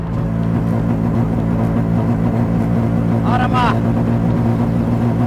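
A Mazda RX-7 running rough on the road, its engine droning in a steady low hum with uneven stutter, close and continuous, while a person exclaims briefly over it.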